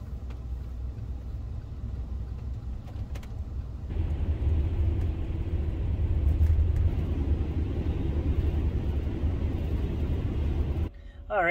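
A van drives along a frigid winter road at -41 degrees in Alberta, a steady low engine and tire rumble inside the cabin that grows louder midway, with no one speaking over it.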